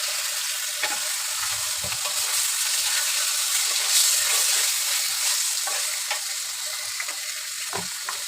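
Chicken pieces sizzle and fry in a paste of ground ginger, garlic, cumin and coriander, with a steady crackle and occasional stirring clicks of a spoon against the pan, close and loud with no talking.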